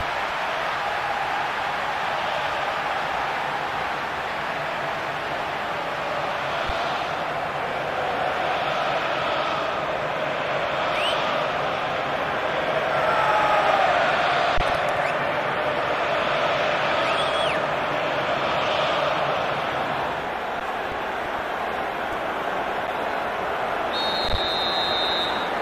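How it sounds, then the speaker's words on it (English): A stadium crowd in the eFootball 23 football game gives a broad, steady roar that swells a little midway, holding as a dense continuous wash of noise without distinct speech. "The crowd wait to offer them a red-hot welcome."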